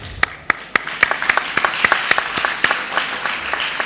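Students at a school assembly clap, with sharp separate claps at first that quickly thicken into close, fairly loud applause lasting a few seconds.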